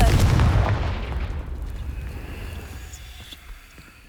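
A Confringo fire spell explodes in the video game Hogwarts Legacy, a loud booming blast that rolls away into a long fading rumble.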